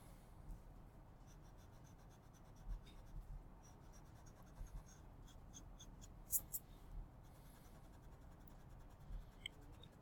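Pencil marks are erased from paper during a tonal shading sketch, giving quiet, close scratchy rubbing strokes in short irregular bursts with small ticks, steady and faint, with no talking.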